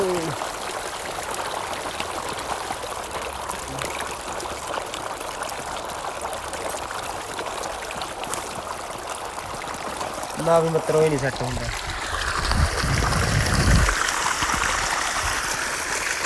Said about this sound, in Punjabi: ਪਾਣੀ ਸਹੀ ਚੱਲ ਰਿਹਾ ਆਪਣਾ